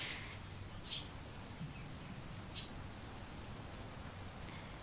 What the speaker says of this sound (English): the never-ending rain that falls in relentless buckets as always